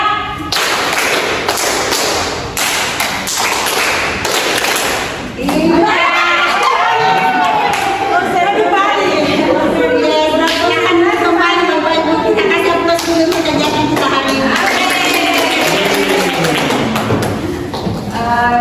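A group of teachers and staff at a vocational school gathering performs a rhythmic clapping routine, sharp patterned claps and thumps followed by a loud crowd with cheering, chatter and voices chanting over the clapping.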